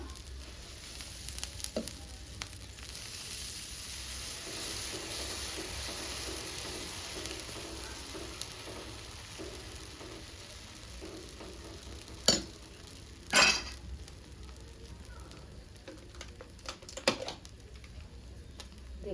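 Dosa batter frying on a hot pan outdoors in the morning, a steady soft sizzle running throughout with a few sharp scraping and clinking spikes near the end; no talking.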